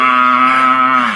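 A man imitates a cow's moo with his voice, one loud, sustained, steady low call lasting about a second that trails off at the end.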